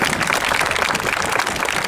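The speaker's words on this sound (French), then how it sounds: "je vous demande de les applaudir très fort" An audience applauds a costume parade, a dense, even patter of many hands clapping close by, steady throughout without pauses or voices.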